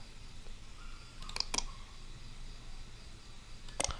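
Computer mouse clicks on a Windows PC, a couple of sharp, close clicks in quick succession followed after a pause by another pair, against a faint background hiss.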